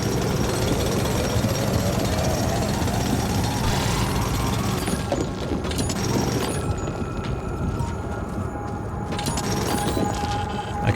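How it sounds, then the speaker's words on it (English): A drill grinds into mineral rock in the video game The Alters with a loud, continuous rattling jackhammer-like pounding that holds steady for about eleven seconds, with a mechanical whine rising and shifting partway through and no voices. "we can just drill some minerals here"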